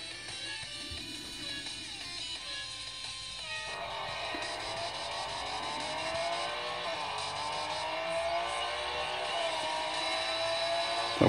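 Race car engine from the mobile game Real Racing played on a UMIDIGI S2 Lite phone, a steady droning engine tone that rises and shifts in pitch, fairly loud and continuous with no talking.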